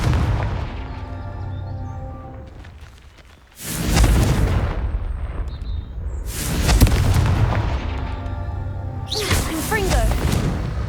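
Confringo blasting-curse explosions from Hogwarts Legacy boom loudly and close, two broadband blasts with whooshing tails and rumbling aftermath over a steady game backdrop.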